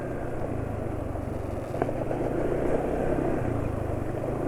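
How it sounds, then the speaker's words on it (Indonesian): A motorcycle engine running on Upsol Max Power SAE 40 diesel oil idles with a steady low drone and a brief sharper blip midway, close and continuous, with no talking. "RPM mesin cepat turun, engine brake minim"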